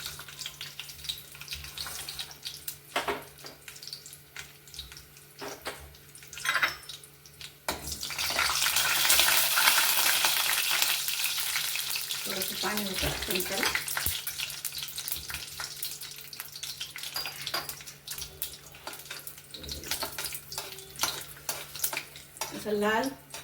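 Coconut pieces fry in hot oil for tempering in a sabudana kheer, with soft clatter and stirring at first, then a loud, sustained sizzle that slowly fades, while someone talks throughout.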